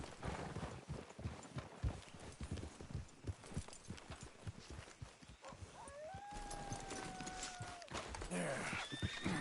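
Horses in Red Dead Redemption 2 clip-clopping in a brisk trot with a long, loud neigh rising over the hooves, voices talking intermittently underneath.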